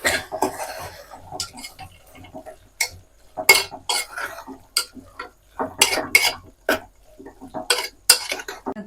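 Soaked chana dal is stirred in oil in a pan for a ponnaganti greens curry, with irregular metallic clanks and scrapes of a spoon against the pan in a quiet kitchen.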